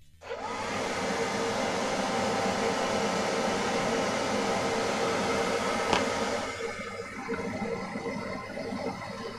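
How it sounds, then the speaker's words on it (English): A hair dryer roars steadily at close range over a painted model, a loud continuous whoosh of air that eases slightly in pitch and level toward the end. "I'm going to have to get the old hairdryer out."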